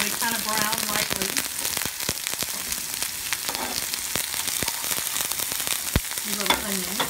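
Radishes in oil sauté in a pan with a steady, loud crackling sizzle that runs throughout, broken by occasional sharp pops and a brief voice or two in the background.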